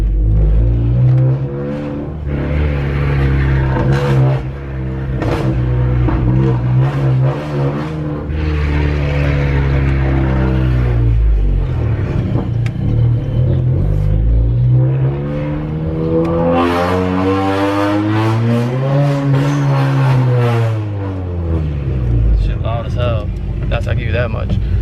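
A 10th-generation Honda Accord fitted with a race downpipe drives past with a loud, droning exhaust. The revs swell and fall and then climb again in a long, steady pull.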